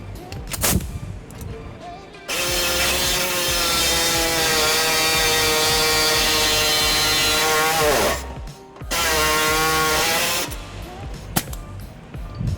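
A power drill widens a bolt hole in the steel frame of a 2005 Nissan Altima during a trailer hitch install, giving two sustained, loud whining runs with a short pause between them, framed by clanks and handling noise.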